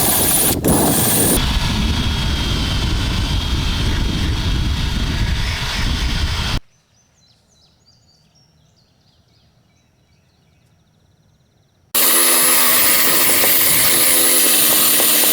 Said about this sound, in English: Now we'll get the rest of the tar off with a wire wheel.